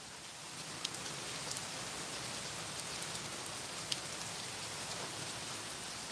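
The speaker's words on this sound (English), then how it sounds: "Sometimes I like to listen to the rain." Steady rain falling outdoors, a dense, even hiss of drops with a few brighter drips standing out, continuous and moderately loud with no talking.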